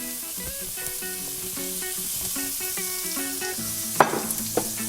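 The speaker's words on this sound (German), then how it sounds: "Und jetzt werde ich das jeweils mit etwas Öl, Sesamöl und Salz dann kurz anbraten." Sliced carrots sizzle in a pan with sesame oil and salt, a steady frying hiss with a stirring scrape and a couple of sharp clatters near the end, while tonal music plays throughout.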